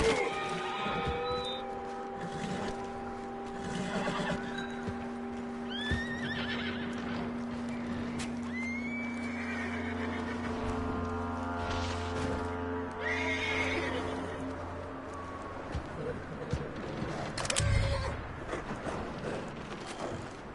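A horse in Red Dead Redemption 2 neighs and whinnies loudly several times, with hoof clip-clops and snorts amid game ambience, the calls near and prominent with no talk over them.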